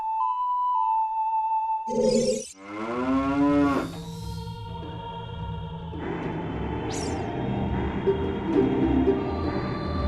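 A cow moos loudly in The Legend of Zelda: Ocarina of Time hack, a long low bellow with rising harmonics that dies into a steady rumbling game ambience, with a bright chime near the end.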